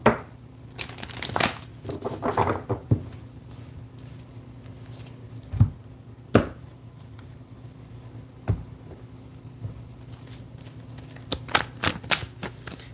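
Tarot deck shuffled by hand in scattered, sharp flicks and riffles, isolated snaps spaced out before a quicker cluster at the end, close and soft over a low hum, with no voices.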